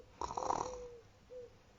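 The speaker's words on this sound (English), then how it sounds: "the Gruffalo snored and snored" A single soft snore rattles briefly, followed by a faint whistling tone on the exhale, quiet and close.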